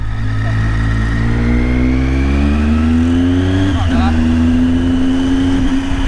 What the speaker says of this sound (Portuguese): É o barulho da moto.